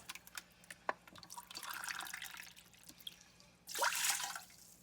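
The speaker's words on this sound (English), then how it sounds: "Now I'm going to add in 9 cups of water" Water poured from a cup into a pot holding one cup of rice for congee, a soft trickling splash early on and a louder, fuller gush of pouring toward the end, with no talking.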